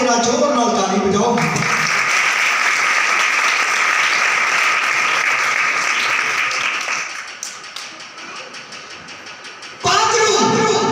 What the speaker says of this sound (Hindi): जेड़े जागदे ने जरा जोर नाल ताली बजाओ।